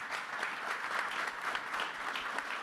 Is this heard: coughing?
no